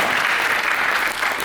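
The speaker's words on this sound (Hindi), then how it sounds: "तो यहाँ तालियां पिताजी के लिए होनी चाहिए।" Audience at a Hindi kavi sammelan poetry recital breaks into a short, dense, steady burst of clapping, close and full, with no voices over it.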